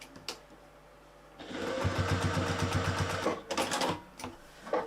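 A sewing machine stitches straight across fabric pieces for a small handmade bag, a steady close mechanical whir lasting a couple of seconds, framed by quieter handling sounds before and after.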